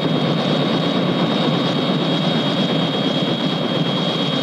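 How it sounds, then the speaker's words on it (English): Helicopter engine noise, a loud, steady turbine whine over a broad rumbling roar, continuous and unbroken throughout. "Mr. President, isn't that your helicopter over there?"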